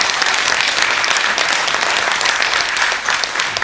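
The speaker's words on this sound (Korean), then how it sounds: "박수 한번 쳐주시죠." Loud, sustained applause from the audience at a memorial ceremony, a thick, even roar of many hands clapping without pause.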